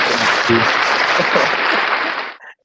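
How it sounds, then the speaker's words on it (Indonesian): Webinar audience applause: a steady wash of clapping fills the first couple of seconds, then cuts off abruptly, leaving a brief near-silence. "Sampai ada suara tepuk tangan dong"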